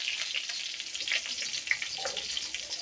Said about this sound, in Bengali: তো এখানে আমি একটা তেজপাতা দিয়ে দিব বাগারের মধ্যে। তেজপাতা দিয়ে দিলাম।